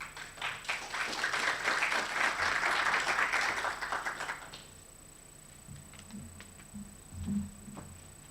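A conference audience breaks into applause, a dense wash of clapping that holds for about four seconds and then dies away into a quiet room.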